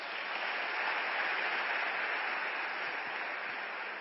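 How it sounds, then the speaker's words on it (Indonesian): An audience at an Indonesian business members' gathering claps together in dense, even, sustained applause lasting several seconds with no voices on top. "aplaus buat Anda semuanya"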